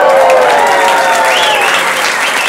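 Audience applause fills a comedy club show in Berlin, a dense steady clapping from a live crowd that carries loud and even from start to finish, easing slightly toward the end.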